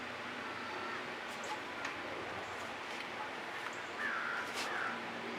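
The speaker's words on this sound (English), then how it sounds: "Very upset bird." Harsh crow-like caws from an agitated bird sound out in a few short bursts toward the end, fairly faint and distant over steady background hiss, with no talking.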